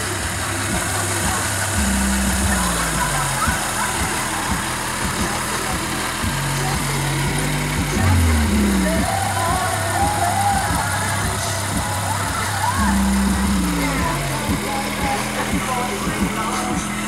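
A 1999 Toyota Avalon sedan with a new battery and alternator idles steadily, a constant mid-pitched engine hum heard close, with someone talking over it throughout.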